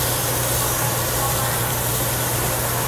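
Steak pieces sear on a Japanese buffet grill, a steady broadband sizzling hiss with a low hum underneath, constant and close for the whole stretch.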